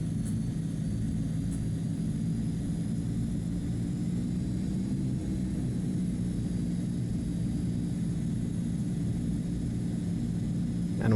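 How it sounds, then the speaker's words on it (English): Steady, droning aircraft engines in Microsoft Flight Simulator 2024 idling at a high, even pitch, a constant low rumble with no change over the whole stretch. "Let's throw the engines into high idle."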